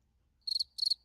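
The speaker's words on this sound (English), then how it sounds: "Thank you for the crickets." Cricket chirping sound effect used as a joke, two short bursts of rapid high pulsing trills separated by a brief pause, clear and isolated against near silence.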